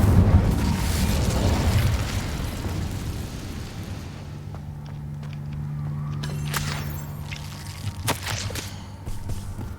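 An Incendio fire spell is cast in Hogwarts Legacy: a loud, rumbling burst of flame with a booming, eruptive roar. It settles into a steady crackling hum over several seconds, with a few sharper pops later on.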